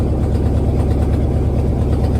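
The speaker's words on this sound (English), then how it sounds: "we are officially getting this rollback with no exhaust." A Chevy Square body rollback truck with no exhaust idles, a loud, close, deep steady rumble with an even, throbbing low-end beat.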